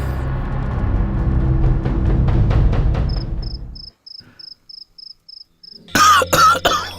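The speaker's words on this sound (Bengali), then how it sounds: "তুমি তো কখন থেকে কাশছো?" An older woman coughing hard and repeatedly for several seconds, followed by a run of faint electronic beeps and a brief burst of voices at the end.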